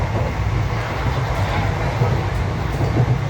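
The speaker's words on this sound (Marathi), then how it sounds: "चाललोय ट्रेन मध्ये आहे आता सध्या" Inside a moving train bound for Mumbai, a loud steady low rumble and rattle of the carriage fills the space, with faint rhythmic knocks from the rails.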